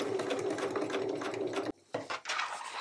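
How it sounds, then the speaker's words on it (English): A sewing machine stitches corner to corner across a small mixed-technique fabric piece, a fast steady mechanical whirr that stops briefly, gives two short bursts, then runs on again, close and loud. "we're just going to stitch corner to corner here"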